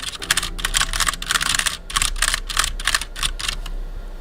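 Rapid keyboard typing in quick bursts close up, a dense clicking patter that mimics a cat scratching.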